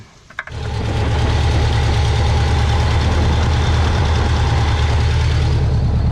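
After a sharp click, a 1968 Chevy Bel Air's engine, sitting unused for eight years, is cranked during a spark test, giving a loud, steady, droning mechanical rumble close by.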